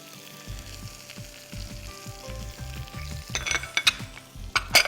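Bay leaves, cumin and ginger-garlic paste sizzle and fry in a pan, a quiet steady crackle broken by stirring thumps and a few sharp clinks of a utensil against metal near the end.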